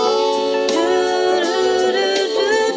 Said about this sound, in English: I'm gonna use a phaser